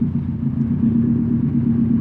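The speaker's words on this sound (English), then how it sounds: "The idle is really dope." A Subaru WRX STI with an aftermarket exhaust pipe idles in a deep, steady burble. The low, throbbing rumble is close and even with no voices.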